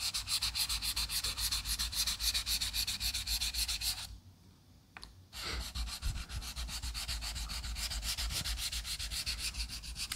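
A German straight razor scrapes back and forth over a honing stone with slurry in a steady, rapid rhythm of close rasping strokes, pausing once for about a second before resuming.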